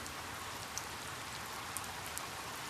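Steady, even rainfall, a soft continuous hiss of drops on surfaces with a few faint individual patters, moderately distant and with no voices.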